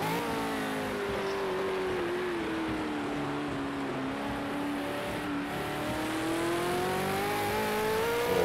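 Race car in a Bathurst 1000 sim racing video game on a wet track, engine accelerating with a rising then falling steady whine held in gear, continuous and moderately loud, no talk.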